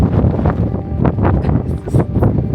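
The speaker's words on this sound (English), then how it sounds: "That's how windy it is up here." Strong wind blasts across an exposed mountain top at Llyn y Fan Fawr in Wales, buffeting the microphone with a loud, continuous roar that surges and gusts throughout.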